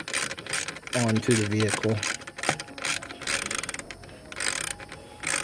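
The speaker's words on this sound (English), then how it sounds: "wrench out and start going at it until it's completely tight" A ratchet wrench tightening the clamp of an Injen air intake on a 2.4L Kia Forte, giving bursts of quick, close metallic clicking in several runs, with someone talking briefly in between.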